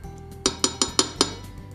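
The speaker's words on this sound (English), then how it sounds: "I'm going to put my lid on, and I'm going to turn my heat down" A metal lid is set onto a pot of boiling quinoa, giving five quick, bright clinks in an even rhythm, close and fairly quiet, over a low background hum.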